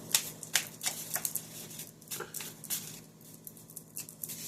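A deck of cards is shuffled up close in an indoor setting, giving irregular bursts of crisp flicking and snapping with brief pauses between and no voices.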